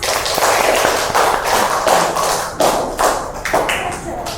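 Applause from students in a classroom for a group returning to their seats, a burst of fairly loud clapping that continues throughout with uneven bursts.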